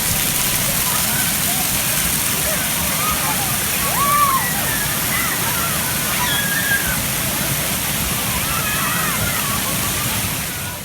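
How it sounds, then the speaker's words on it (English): A large splash bucket at a water park tips and dumps water, a loud sustained rushing and sloshing roar that swells briefly midway, with faint children's voices and park chatter mixed into the wash. "The big splash bucket right here is something that many of the kids like."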